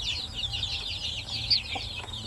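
Native chickens cluck and chatter continuously at close range on a farm, with overlapping soft calls and a steady low background hum.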